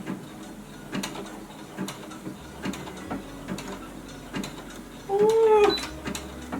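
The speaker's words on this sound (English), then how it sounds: "let's set this to a zigzag stitch" A sewing machine runs slowly through a zigzag stitch over yarn, giving a steady mechanical ticking and clacking rhythm, close and moderately loud, with a brief higher whirring swell near the end.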